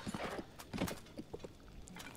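A horse's hooves clip-clop softly in short uneven bursts in The Legend of Zelda: Tears of the Kingdom on Switch, faint and fairly close, with no clear whinny.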